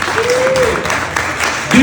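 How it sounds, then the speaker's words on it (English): A comedy club audience applauds in a steady wash of clapping while a voice talks over it. "Give yourselves a round of applause."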